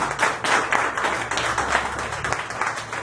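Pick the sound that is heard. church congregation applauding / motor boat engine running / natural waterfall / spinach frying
church congregation applauding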